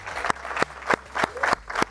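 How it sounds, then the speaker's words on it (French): An audience at an eloquence contest in Aulnay-sous-Bois claps in short, regular bursts, a close, moderately loud patter of hands with a rhythmic pulse. "sous vos applaudissements, s'il vous plaît"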